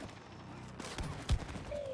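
Gunfire in the video game It Takes Two, with one sharp, punchy shot standing out over a quiet, busy game background and a few softer popping sounds around it.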